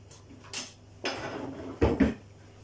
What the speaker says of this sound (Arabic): وهنقلب كل ده مع بعضه